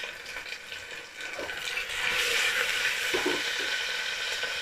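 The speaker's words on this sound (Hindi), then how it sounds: "अब इसमें अभी हम आलू फ्राई हो रहा है" Potatoes fry in a pan with ground onion, garlic and green chili paste, a soft sizzle that swells louder midway, with a few stirring clicks and no talk.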